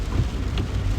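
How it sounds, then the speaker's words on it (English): Steady rain falling outside, a dense continuous patter and wash with faint low rumbles, heard alone without any talking. "it's raining."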